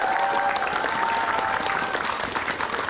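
A studio audience applauds a guest being introduced on an Indonesian talk show, a dense, even burst of clapping that runs through the whole stretch and fades a little at the end.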